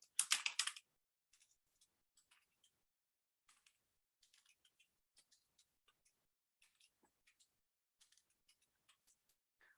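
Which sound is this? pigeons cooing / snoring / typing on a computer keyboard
typing on a computer keyboard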